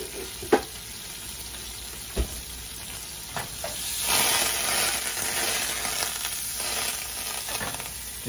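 Butter melts and sizzles in a hot pan after eggs have cooked, a steady soft frying hiss with a few sharp clinks and taps of a utensil, close and fairly quiet, with no talking.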